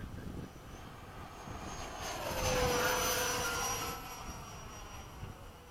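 An FMS F-104 model jet makes a high-speed solo pass at Bayside, a steady airy turbine whine that swells to a peak mid-pass with a falling pitch sweep, then eases off, heard alone with no voices.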